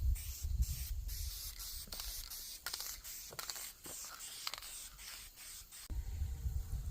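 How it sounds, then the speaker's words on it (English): A spray gun lays the final clear coat on a Ram 2500 Mega Cab truck in a paint shop, hissing in a string of short bursts broken by brief pauses, close and fairly quiet. "we're going to get our last coat of clear coat on this thing"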